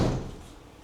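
A door in a house for sale in Pampanga is pushed shut against outside traffic noise, landing as one close, dull thud that fades quickly into quiet.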